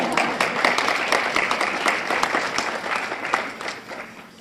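Audience applause fills a high school hall of fame induction ceremony, steady dense clapping from a sizable crowd throughout, moderately loud and close.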